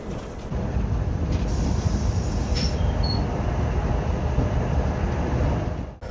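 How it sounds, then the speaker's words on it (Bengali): A train rumbling at Banihal railway station in Kashmir, a steady loud mechanical roar of rolling wheels and carriages with wind buffeting the microphone, broken by a few brief high squeals before cutting off abruptly. "এই হচ্ছে আমাদের ট্রেন, এই ট্রেনে করে পৌঁছলাম বানিহাল রেলওয়ে স্টেশন"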